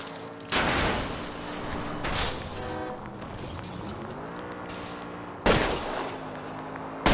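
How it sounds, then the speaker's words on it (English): Gunfire in L.A. Noire aimed at a fleeing car's tires, a few loud bursts spaced apart over a continuous engine roar during a chase. "I'll try to shoot out his tires."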